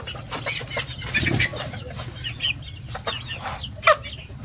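SBR breeder chickens cluck and call in a farm pen, scattered short clucks and a wing flap close by over steady background noise, no talk.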